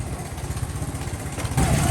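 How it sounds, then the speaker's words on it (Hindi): A motorbike engine putters steadily as it squeezes through a narrow lane in a low-income area of Islamabad, with a low, throbbing idle rhythm that grows slightly louder near the end. "यहाँ पे बाइक इतनी मुश्किल से गुजर रही है"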